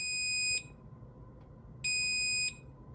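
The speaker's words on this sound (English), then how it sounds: "When it's finished, it lets out a beep sound so that you know that it's done." Two sustained high electronic beeps from a Cuisinart toaster signalling toasting is done, each about half a second long, separated by a pause, sounding clearly over a quiet room hum.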